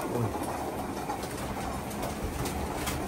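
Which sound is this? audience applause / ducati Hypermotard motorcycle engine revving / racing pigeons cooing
racing pigeons cooing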